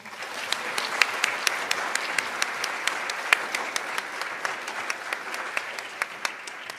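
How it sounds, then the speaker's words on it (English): Sustained applause from a seated audience at a 2021 school awards ceremony, steady dense clapping with a few sharper claps standing out, moderately loud and continuous throughout. "One more round of applause for them"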